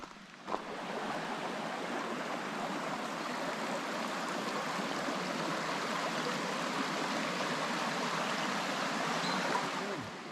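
Steady broadband rush of flowing water, like a stream running nearby, continuous and even throughout with no voices, along a hiking trail in Carnarvon Gorge, Australia.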